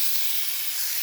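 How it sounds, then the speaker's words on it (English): Chicken sizzling in a hot oiled skillet gives a steady, loud hiss of frying that runs unbroken from start to finish with no talk over it. "There's a nice sizzle there."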